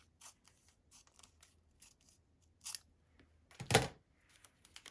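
Scissors trimming the edge of a floral quilt block's fabric: a few quiet, sparse snips and soft cuts close by, with one louder crisp cut near the end and no talking.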